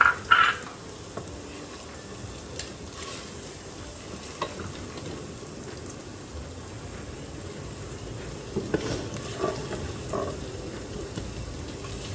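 Chopped ginger, garlic and onion frying in a pan for a chicken sandwich filling, a soft steady sizzle with occasional stirring scrapes and clinks, close and fairly quiet.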